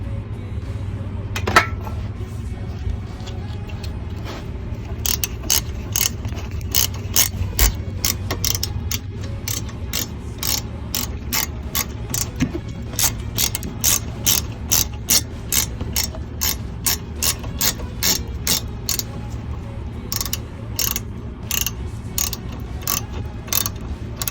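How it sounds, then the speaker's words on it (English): A hand ratchet tightens a brake caliper pin on a 2005 Mini Cooper, a long run of rapid, evenly spaced metallic clicks, close and loud over a low hum, with a brief knock at the start. "and that's the ratchet"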